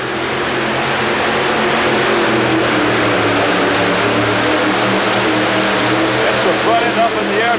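Modified pulling tractor engines roar continuously at an indoor tractor pull in Atlanta, a loud dense drone with the announcer talking over it throughout.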